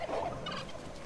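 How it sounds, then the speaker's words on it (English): Turkey gobbling in the Far Cry 5 video game, one brief warbling gobble heard alone over a steady ambient background. "A turkey?"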